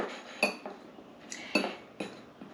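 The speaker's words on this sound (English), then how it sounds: "take a fork and I'm just going to mash these yolks" A fork mashing boiled egg yolks in a dish for deviled eggs, sounding as several distinct clinks and scrapes of metal against the bowl spaced through a quiet background.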